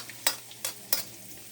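Onion added to oil with ginger for chicken liver and gizzard kinamatisan, three quick, bright stirring scrapes over a faint low sizzle, close and quiet.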